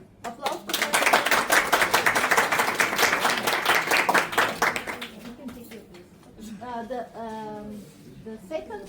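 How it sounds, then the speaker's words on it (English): A small audience at a Berlinale networking event claps in a few seconds of distinct, fairly loud hand claps that taper off, after which a person starts talking. "Applause."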